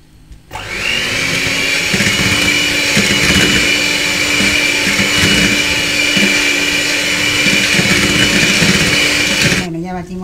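An electric mixer whirs steadily as it beats orange into sponge cake batter, a loud continuous motor hum that starts abruptly, runs for about nine seconds and then cuts off.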